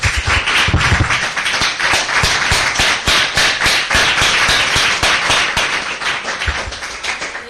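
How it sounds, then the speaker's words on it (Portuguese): Church congregation claps vigorously in a sustained, dense burst of applause, loud and close, fading slightly toward the end. "Então vamos dar uma salva de palmas bem bonita para o Senhor."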